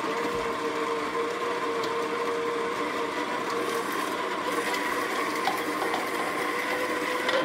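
A Baratza Virtuoso burr grinder grinds decaf espresso beans, making a steady, dense mechanical whir with faint rattling that holds at even loudness the whole time, heard alone.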